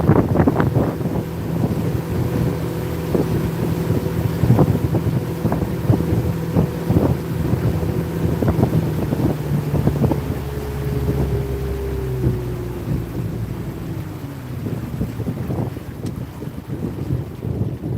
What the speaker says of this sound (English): I'm just gonna kill the motor.